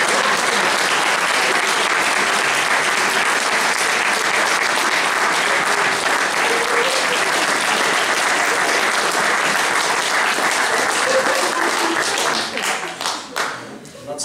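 Audience at an adult Christmas variety show bursting into loud, dense applause to welcome a performer, a sustained roar of clapping that holds strong for about twelve seconds before thinning into scattered claps at the end.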